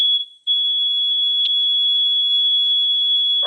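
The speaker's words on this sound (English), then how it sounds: "can you step back in front of that alarm that keeps beeping?" A loud electronic alarm emits a steady, continuous high-pitched beep after a brief dip at the start, sounding alone and close without talk.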